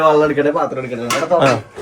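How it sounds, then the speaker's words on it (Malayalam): Metal dishes and plates clatter and ring as they are set down after a home meal of beef and rice, with a couple of sharp clinks over a resonant metallic hum. "പാത്രമൊക്കെ അവിടെ കൊണ്ടുപോയി വെക്കട്ടെ"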